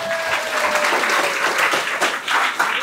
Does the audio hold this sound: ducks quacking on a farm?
no